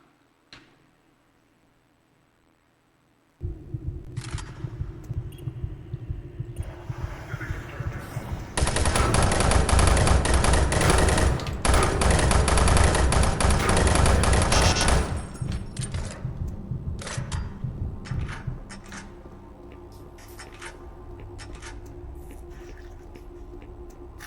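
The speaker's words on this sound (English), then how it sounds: "This is why we should use this gun." Gunfire in the Doom 3 video game, heard as rapid, loud, sustained automatic bursts with rattling shots. The firing lasts several seconds and then trails off into scattered game sounds.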